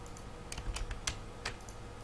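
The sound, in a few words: computer keyboard key presses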